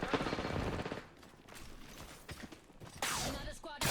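Gunfire in Apex Legends, a dense rapid burst at the start followed by scattered quieter shots and clatter, then loud noisy bursts near the end, with a voice talking in between.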